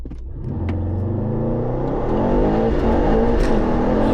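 A 900+ BHP Mercedes-AMG GT63s launching hard from a standstill with all four wheels spinning, the engine note climbing loud and close into a sustained, swelling roar.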